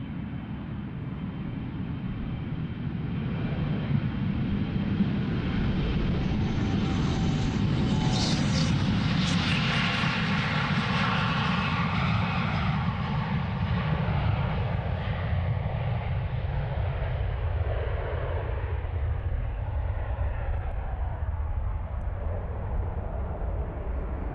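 An airliner departs runway 36L at Amsterdam Schiphol, its roar building to a loud peak as it passes overhead, then fading into a long receding rumble as it climbs away.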